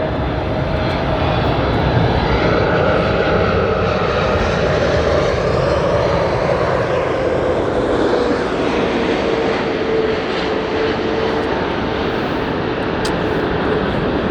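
A Korean Air Boeing 747 lands at LAX, a loud continuous jet roar that fills the whole stretch with a slowly shifting engine whine, heard from the ground nearby.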